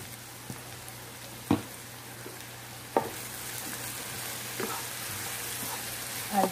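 Tempeh orek with sweet soy sauce is stirred in a pan, giving a soft sizzle under a few distinct scraping knocks of the spatula spaced about every second and a half, close and fairly quiet.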